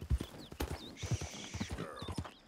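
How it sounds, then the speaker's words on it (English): Horse in the Red Dead Redemption 2 video game: repeated clip-clop hoof steps with a short whinny near the middle, close and moderately loud over faint game ambience. "I think my horsey is hungry."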